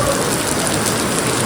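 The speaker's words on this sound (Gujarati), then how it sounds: "બપોર પછી વરસાદ ચાલુ થઈ ગયા છે" Heavy rain pours down in a steady, dense hiss that fills the whole moment without pause, loud and close, with no voices.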